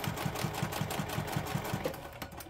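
A Juki 2010 sewing machine stitches in a steady, even rhythm of regular low thumps, close and continuous, with no voices.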